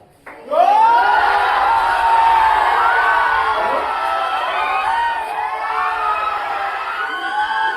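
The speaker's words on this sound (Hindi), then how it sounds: "चलो हम तुमको 20 सेकेंड देते, करो हल्ला" Children at a Teachers Day celebration in a coaching centre break into a loud, sustained uproar of shouting, whooping and cheering that swells suddenly and keeps going for several seconds, with scattered laughter in the din.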